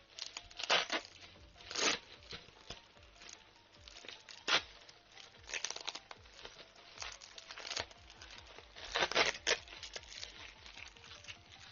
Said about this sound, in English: Look at all the sellotape off in one go.